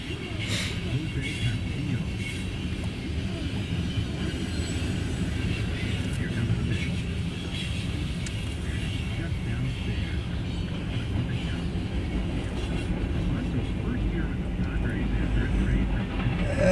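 A train with a blue engine and wide metal cars rolls past, a continuous rumbling roar with faint rail clatter heard from a distance, while people talk over it.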